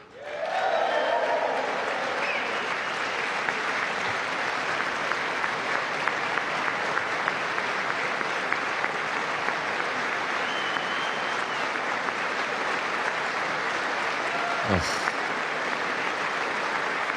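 Steady, sustained audience applause fills a large chamber at the State of the Union address, loud and continuous for the whole stretch, with a brief isolated bump near the end.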